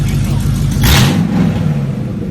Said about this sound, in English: that thing revs so much faster